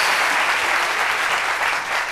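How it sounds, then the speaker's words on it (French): Studio audience applause greeting the guest Cécile on a French broadcast programme: dense, steady clapping from many hands, loud and close, lasting throughout without voices. "des applaudissements s'il vous plaît"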